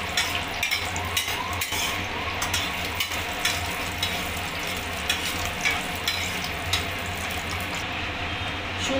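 Whole bay leaf, cloves, cardamom and cinnamon crackle and sizzle in hot oil, with steady frying hiss and light scraping stirs ticking through; close and fairly loud, no voices.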